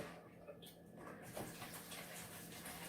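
Potatoes being rinsed under running water from a tap, a soft, steady hiss of flowing water that stays faint and even throughout.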